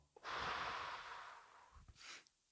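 A single deep breath taken during a guided meditation, one long airy inhale followed by a softer exhale, close and quiet with no talk.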